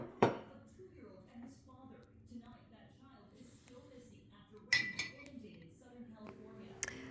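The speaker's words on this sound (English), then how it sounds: "So I'm going to fill up both of my kitty" Hot fruit herbal tea poured into cat-shaped cups, with a sharp clink at the start and further glassy clinks later over soft pouring and handling noises, all faint.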